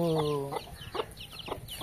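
Chickens and chicks clucking close by, a few short calls spaced through the moment, with a brief higher squawk at the start.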